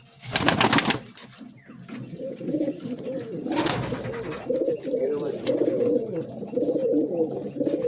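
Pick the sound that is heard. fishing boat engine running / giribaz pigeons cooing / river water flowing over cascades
giribaz pigeons cooing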